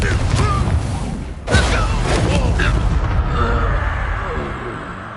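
A Confringo blasting curse goes off in Hogwarts Legacy with one sudden booming blast, followed by rumbling debris and spell effects under spoken voices.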